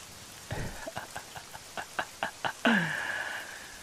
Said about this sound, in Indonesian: Aku pengen kita ngerasain hujan yang sama di malam hari ini.